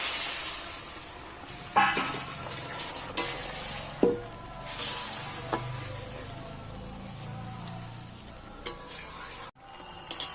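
Water from rinsing spices poured around the side of a pan of frying spice paste with chopped coriander for an egg curry, giving a steady hissing sizzle with a few sharp clinks and scrapes, no talking.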